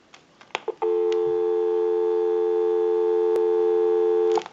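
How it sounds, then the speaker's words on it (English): A Western Electric Model 500 desk telephone under repair gives a few handset clicks, then a loud, steady dial tone that holds for several seconds before cutting off with another click. "We'll go ahead and give you some dial tone."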